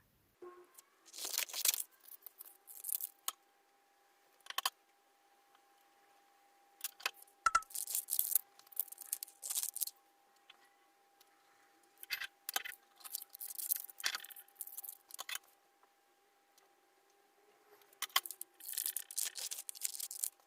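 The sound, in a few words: cutting out wax paper pieces for a lantern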